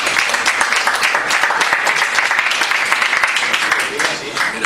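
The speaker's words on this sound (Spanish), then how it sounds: "Un aplauso para mi disco," Audience applause at a live show, a dense, steady wash of clapping from a crowd that holds at an even level throughout, with possible voices beneath it.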